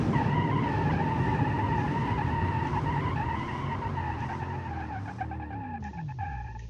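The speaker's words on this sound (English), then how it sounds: "let's try and test the brakes of this beast here" In the BeamNG driving game, a car under hard braking makes a long, loud tire skid over a steady engine drone; the squeal holds for several seconds and then bends downward in pitch as the car slows.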